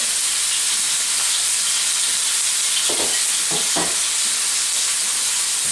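A porterhouse steak sears in a very hot pan over high heat, giving a loud, constant sizzle and hiss throughout, broken by a few brief scraping knocks near the middle.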